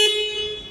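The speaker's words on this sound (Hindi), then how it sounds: "सो एक बार इसका हॉर्न सुन लेते हैं" Horn of a Bajaj Chetak electric scooter, a single short bright honk that fades away, loud and close with no talk over it.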